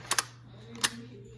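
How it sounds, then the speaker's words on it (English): An Italian Vetterli-Carcano 1870/87/15 rifle bolt being opened and worked: two quick metallic clicks close together, then a single sharper click a moment later, close and fairly quiet over a low steady hum. "once you open or lift up on the bolt, it goes down"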